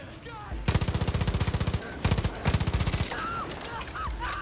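Rapid automatic gunfire from the Far Cry 5 video game, in two close, loud bursts of evenly spaced shots separated by a short pause, followed by fading game ambience.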